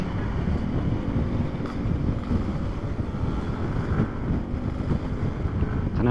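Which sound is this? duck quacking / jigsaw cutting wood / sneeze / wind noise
wind noise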